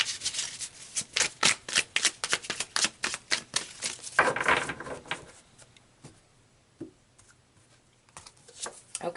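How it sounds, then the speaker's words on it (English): Oracle cards are pulled and shuffled in quick, crisp riffling bursts for about four seconds, then a few scattered soft card slaps and taps follow before the handling trails off into near quiet. "So let's pull some more cards here,"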